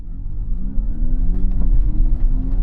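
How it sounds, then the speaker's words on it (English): Synthetic engine sound from a Kia GT electric car, heard as a steady, loud droning hum with rising and falling tonal layers, like a simulated engine being revved, close and continuous without talk. "the engine sounds in the GT are pretty terrible."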